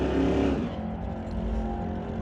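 A stock-class Cuda drag racing car on a test-and-tune run at a drag strip gives a loud, steady engine roar with a rough low rumble that eases slightly after the first half-second. No one speaks.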